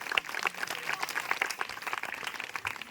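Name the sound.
congregation clapping loudly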